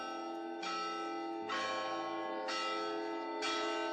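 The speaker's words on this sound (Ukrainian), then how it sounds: "На Великдень дозволяють позвонити у святкові дзвони" Church bells ring out for Easter in four evenly spaced, sonorous strikes, and each rich tone hangs and overlaps the next. They sound moderately distant and quiet, with no voices.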